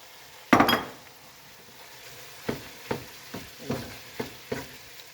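A spoon stirs chili with tomato paste in a pot, opening with a loud scrape against the metal and followed by a series of soft, evenly spaced scrapes and taps, close by over a faint sizzle, with no voices.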